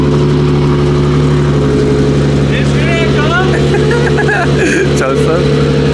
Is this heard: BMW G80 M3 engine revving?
yes